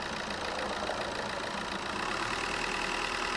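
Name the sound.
car engine being revved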